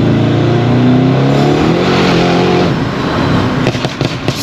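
A Mercedes E63S tuned to about 1200 bhp pulls hard at half throttle, its loud engine roar climbing steadily in pitch for nearly three seconds before easing off into crackling, popping bursts from the exhaust.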